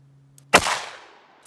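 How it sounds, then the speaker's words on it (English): A single loud, close gunshot from a .38 Special +P revolver firing 125 grain Buffalo Bore rounds over a chronograph outdoors, a sharp crack followed by a decaying ring-out, preceded by a faint low hum. "And then I'm just gonna fire off five shots quick like."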